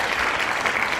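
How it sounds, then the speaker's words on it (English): Audience applause at a live show, a brief, dense burst of steady clapping, loud and close, lasting about a second. "keep the applause going."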